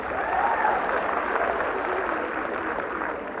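Sustained applause from a live audience at a comedic Hindi poetry gathering in Saifai, a dense, steady wash of clapping that holds for the whole stretch with no voices over it.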